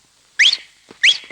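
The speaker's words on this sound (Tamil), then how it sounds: "என்ன இனிமையான விசில்." Two sharp, loud rising human whistles, short and shrill, are blown a moment apart in a comedic Tamil film scene, each a brief burst with quiet between.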